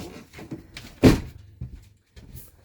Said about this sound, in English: We'll shut the door so we can see the dial.